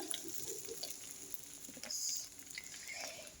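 Quiet frying in a pan, a soft crackle and patter with faint clinks, fairly distant and low in level.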